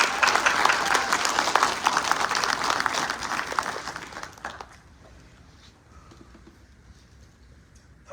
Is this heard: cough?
no